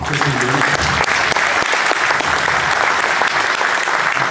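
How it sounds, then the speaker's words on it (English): A round of applause from a group at a basketball coaching session, a loud, continuous clapping that holds steady throughout, with voices murmuring low beneath it at the start. "How about a round of applause?"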